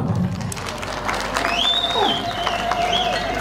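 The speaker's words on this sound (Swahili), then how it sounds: "Hebu tuwapigie makofi ya kutosha." A crowd claps loudly and steadily at a send-off party at Golden Jubilee in Dar es Salaam, the applause continuous throughout with tonal sounds drifting above it.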